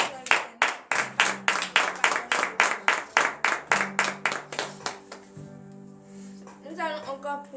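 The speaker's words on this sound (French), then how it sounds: "vous levez sur vos pieds et donnez de vives acclamations à l'Éternel" Rhythmic, loud unison clapping from a congregation at a morning prayer service in Benin, steady beats for about five seconds before fading into sustained tones and a voice.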